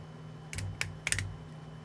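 Keys clatter in a short burst of a few sharp clicks on a keyboard, close and moderately loud over a low steady hum, with no talking.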